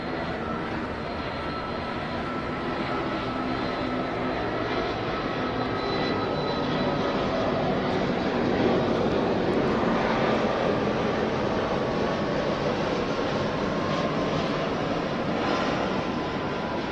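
A fixed-wing aircraft flies over an outdoor T10 cricket ground. Its loud, steady engine drone fills the whole stretch without talk.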